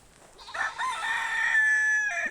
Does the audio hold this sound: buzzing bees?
no